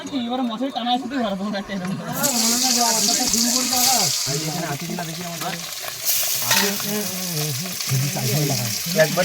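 Fish frying in a pan at an outdoor Sundarbans fishing camp, a steady sizzle and hiss under loud ongoing conversation, with the frying noise swelling strongly partway through.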